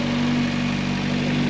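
A tuned car with no sound insulation heard from inside the cabin, its engine idling around 1000 rpm as a steady low rumble and drone, loud and unbroken.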